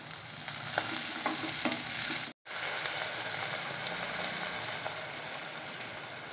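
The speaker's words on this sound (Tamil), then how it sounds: "சேர்த்துட்டு கொஞ்சம் நல்லா வதக்கி விட்டுருங்க" Vegetables for upma kozhukattai sizzle and crackle in a hot pan, with stirring scrapes near the start and a brief cut partway through; steady and close.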